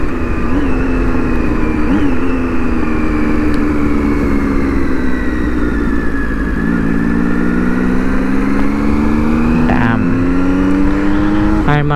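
A Triumph Street Triple motorcycle is ridden on a long highway journey, its engine a loud, steady droning whine with wind rush. The pitch sags midway, then climbs gradually as it pulls harder toward the end.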